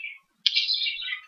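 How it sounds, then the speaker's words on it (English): Birds give a brief chirp, a short pause, then a longer bright tweeting call, fairly close and alone. "not unlike the songs coming from the birds, who just will never, ever for the life of them learn to keep quiet for more than 2 seconds"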